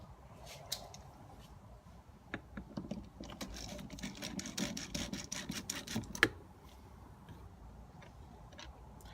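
Phillips head screw being backed out of a Lexus LX570 door panel, a close series of small ticking, clicking ratchet-like sounds that thicken in the middle and then stop, with no talking.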